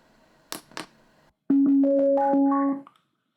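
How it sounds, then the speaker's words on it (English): A QFX PBX Bluetooth speaker gives a steady electronic hum with stacked tones that step upward after a mode switch, lasting about a second and a half, loud and close, preceded by two brief clicks. "you guys hear this humming sound that it does for a few seconds"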